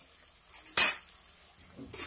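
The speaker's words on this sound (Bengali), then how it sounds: "এখন সবগুলি উপকরণ আবারও এক মিনিটের মতো নেড়ে চেড়ে বেজে নেব" Masoor dal with turmeric and salt stirred in a pan: a few short scraping clinks of a utensil, one sharp loud stroke standing out among fainter ones, with no voices.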